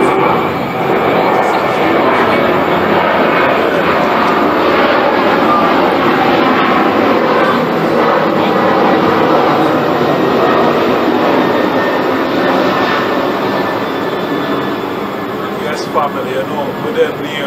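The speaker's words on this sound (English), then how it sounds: "we do have, you know, planes lifting up ever so often" Jet airliners take off repeatedly from the airport in Accra, Ghana, producing a loud, continuous broadband engine roar that holds steady for the whole stretch, with voices speaking underneath.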